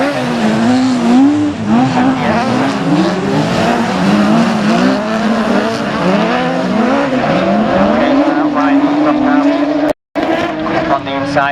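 Autograss race cars roar around the dirt track at Blyton Park, engines rising and falling steadily and loudly throughout, with a live commentator talking over them.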